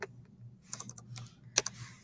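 Several light clicks of a calculator keypad as numbers are entered, quick irregular taps close by with a sharper click near the end, over a low background hum.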